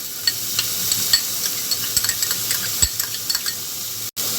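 Garlic sizzles in hot oil with onion for a momo vegetable filling, a constant crackling fry close by, punctuated by regular clinks and scrapes of a spoon stirring the pan, no voices, ending in a brief cut.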